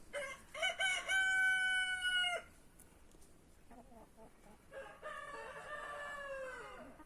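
Two roosters crow one after another, loud and close, each call a long rising-then-held cock-a-doodle-doo, with soft clucking in the pause between.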